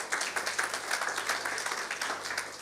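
Church congregation at a Christmas Eve service applauding, a steady wash of many hands clapping at moderate volume with a faint low hum beneath, no talk over it.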